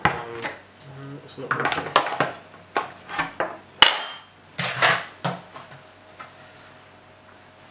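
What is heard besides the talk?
knife used to unscrew a fermenter tap plug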